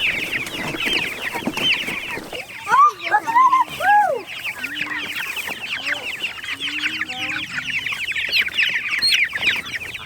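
Many chicks peep in a busy high chorus, with nearby clucking and short chirps from a bird close by.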